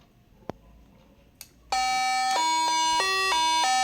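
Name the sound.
smart doorbell ringing, Amazon Echo Show intercom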